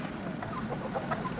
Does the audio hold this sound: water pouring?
no